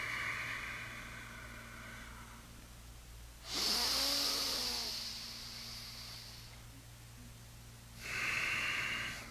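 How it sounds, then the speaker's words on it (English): Two long, audible exhales from a breathing exercise, each several seconds long with a breathy, slightly snoring rasp, close up over a steady low background hum. "You should breathe ideally so that you hear your breath"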